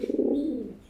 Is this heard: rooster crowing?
no